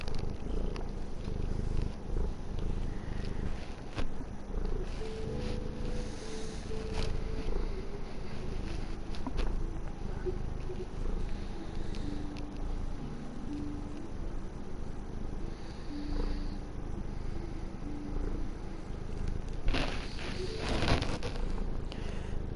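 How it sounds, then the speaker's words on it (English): A cat sits in a lap purring right into a microphone, a steady low rumbling purr that runs continuously and close throughout, with faint background noise and no speech. "I currently have Thor sitting in my lap and he's purring into my microphone."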